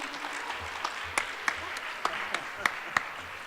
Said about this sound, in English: give me a round of applause as we welcome Mr. Ben Simon.